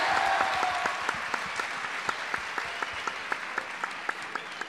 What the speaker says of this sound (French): Applaudissez-vous, oui